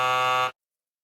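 A loud electronic timer buzzer gives a single steady, harsh tone for about half a second and then stops abruptly into silence.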